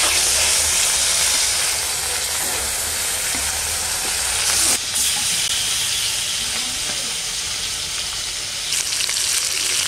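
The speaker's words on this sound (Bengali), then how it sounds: "এখন আমি মাছগুলো ভেজে নেব।" Shol fish frying in hot mustard oil in a wok, a loud, steady, broadband sizzle and hiss that continues throughout, with a couple of brief flare-ups.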